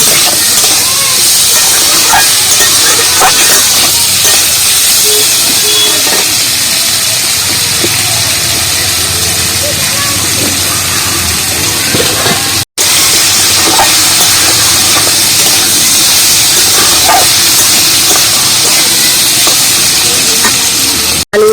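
Potatoes fry with salt in a pan for a vegetarian borboti dish, giving a loud, continuous sizzle and hiss close up that runs nearly unbroken, with one short gap partway through.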